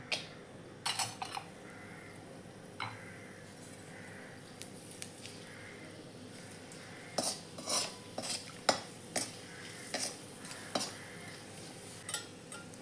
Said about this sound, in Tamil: பூண்டை லேசாக வதக்கிட்டுருவோம்